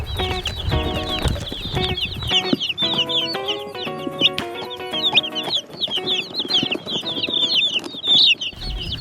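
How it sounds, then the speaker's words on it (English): Many Cornish Cross meat chicks peep constantly in a high-pitched chorus inside a box, with some scuffling and bumping thumps, close and busy. "we just picked up 40 more meat chickens at the post office"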